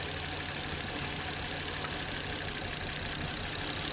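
A Honda Pilot engine idles with cylinder 1's coil unplugged, a steady mid-level drone with a rough, uneven pulse from the misfire and a single faint click partway through.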